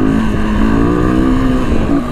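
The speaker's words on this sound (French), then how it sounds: "on entend le monde de 4 roues qui vient de passer là, là" Steady engine drone from a four-wheeler ATV on a trail, its harmonic whine rising and falling slightly as it passes close by, loud and continuous with no talking.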